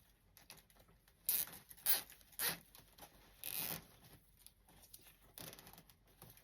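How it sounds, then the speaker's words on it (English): Plastic zip tie ratcheting shut while fastening a Valentine wreath, several quiet, rasping zips in short bursts, close up against near silence. "I'm going to zip tie this down."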